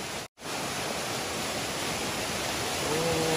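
A waterfall in the hills near Luang Prabang, Laos, pours as a steady broadband roar, close and constant, with one brief dropout near the start and no talk.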